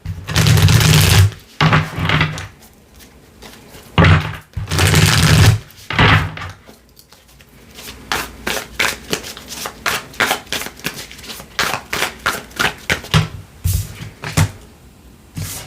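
Cards being shuffled close up: a few long riffling bursts, then a quicker run of crisp, rhythmic card snaps and flicks.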